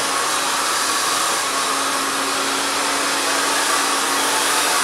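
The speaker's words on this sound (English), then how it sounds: "that blow dryer just swerves around the hair as we move down that hair strand" A handheld blow dryer runs continuously while drying hair strand by strand, a loud, steady airy roar with a faint motor hum underneath and no talking.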